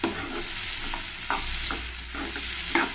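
Sliced onion and capsicum frying in a hot kadai for kadai paneer, a steady close sizzle with a few sharp spatula strokes against the pan, no voices.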